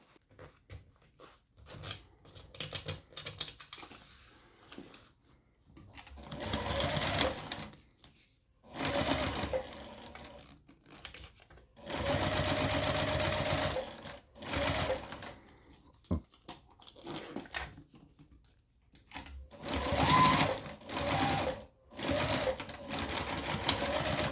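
A sewing machine stitches the bottom seam of a pocket piece for a Flora Burn shoulder bag, running in several steady bursts of varying length separated by short pauses, close and fairly loud.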